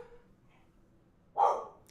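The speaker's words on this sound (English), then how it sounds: "Sorry if you can hear the dog." A dog in a home gives a single sharp, loud bark close by after a quiet stretch.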